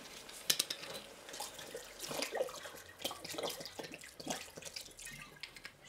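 Water poured from a tap or jug into a cooking pot holding stock, a splashing, trickling stream with small clinks of the pot, moderately close and steady for several seconds with no talk.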